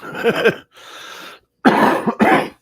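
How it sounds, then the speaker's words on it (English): Several harsh coughs in close succession, loud and near, with a short raspy breath between bursts. "I still got this cough."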